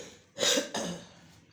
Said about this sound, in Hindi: मैं आप लोगों को बहुत इरिटेट करती हूँ अपनी खांसी से.